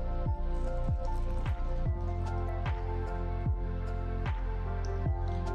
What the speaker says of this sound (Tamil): அடுத்து இதில் நம்ம வச்சிருக்கிற சாக்கோ சிப்ஸை போட்டுடலாம். போட்டுட்டு இதையும் நல்லா மிக்ஸ் பண்ணிடுங்க